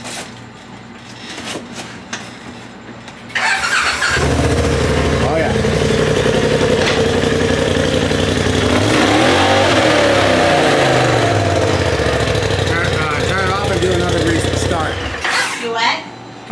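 Porsche 911 Turbo S engine cranking and catching, then a loud sustained idle and rev with the pitch swelling and falling, ending abruptly; voices talk before the start.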